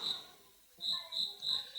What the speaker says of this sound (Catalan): Clar, això és un grill.